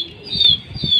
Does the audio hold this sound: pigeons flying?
yes